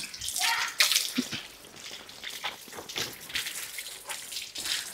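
Water splashes and hisses in broad bursts while a motorcycle is being washed, irregular spraying and dripping close by with no voices over it.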